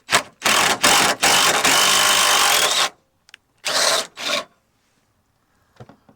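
A 3/8-16 tap threads a bolt hole on a 2011 Impala: loud, close grinding and rasping bursts, one long run of about a second and a half, then two shorter bursts separated by silence.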